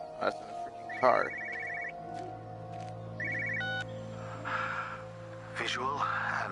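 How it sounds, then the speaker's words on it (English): An old-fashioned telephone bell ringing in the game Everybody's Gone to the Rapture, two short trilling bursts a couple of seconds apart amid quiet ambient hum, with faint gasps and a voice in the background. "I hear a phone, but I don't know where it's coming from."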